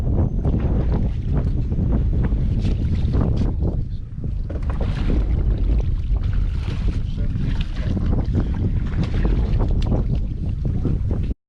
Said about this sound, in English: let me get that troll motor for you.